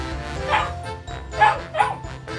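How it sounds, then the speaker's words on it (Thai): Three short, high-pitched puppy yaps in quick succession, loud and close, with a faint hum underneath. "เป็นลูกหมา"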